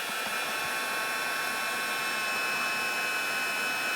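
An embossing heat tool blows a steady, loud, unbroken whooshing hiss at close range the whole time, with no talking over it.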